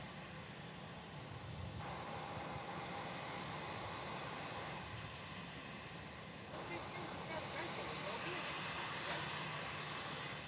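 A Qantas airliner arriving from Sydney lands on runway 16 at Melbourne Airport, heard as a steady distant jet-engine roar that swells slightly toward the end, with faint radio voices underneath.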